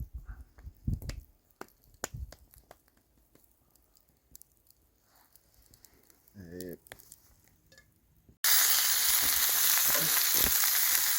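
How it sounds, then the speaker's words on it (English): Moose burgers in a frying pan: scattered clicks and handling noises with a brief voice, then a sudden loud, steady sizzle of frying fills the last few seconds. "we'll just form them up in the frying pan, and then we'll cook them on the grill"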